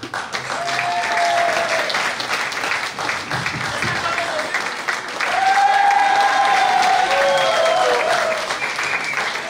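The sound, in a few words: congregation applauding Jesus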